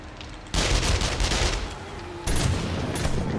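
Sustained automatic gunfire at a boss in 7 Days to Die: loud, dense bursts of shots running almost without pause, with a brief dip before the firing swells again.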